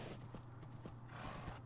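Horse hooves clip-clop in a steady trotting rhythm in Minecraft survival games, close and fairly loud over a constant low in-game hum, with no talking.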